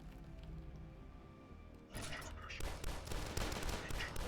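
Gunfire from enemies in a video game at night: after a quieter stretch, a dense, crackling run of rapid shots bursts in and continues steadily to the end.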